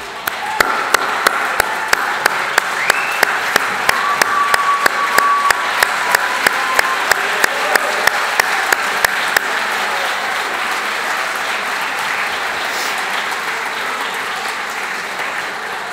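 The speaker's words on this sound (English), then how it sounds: "I think they deserve one hell of a round of applause" A large audience standing and clapping for university staff at a sports awards evening, a broad, continuous roar of hands held at an even level throughout, with a few sharper individual claps popping out near the start.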